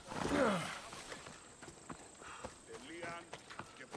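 Horse hooves clip-clop in a steady walking rhythm in Assassin's Creed Odyssey video game, set on the island of Kefalonia, mixed under someone talking and a brief horse snort.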